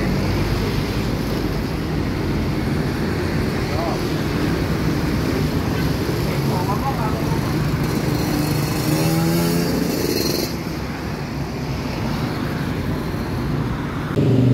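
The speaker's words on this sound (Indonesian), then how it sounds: "Ini mesinnya udah dinyalakan." Mercedes bus engine of a new Garuda Mas coach idling: a steady, loud low rumble with a constant mechanical drone, holding even throughout with faint other noises over it.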